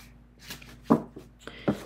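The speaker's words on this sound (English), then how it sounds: "So they shuffle very nicely." A deck of historic playing cards made from springy cardstock is shuffled, giving a couple of brief, crisp riffling bursts over a quiet background.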